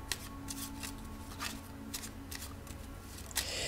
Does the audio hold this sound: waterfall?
no